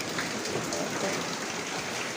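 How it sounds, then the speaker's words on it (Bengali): Dense, continuous downpour of heavy rain, loud and close, with a broad rushing hiss of gusting wind. "হাওয়া দিচ্ছে আর বৃষ্টি প্রচুর হচ্ছে"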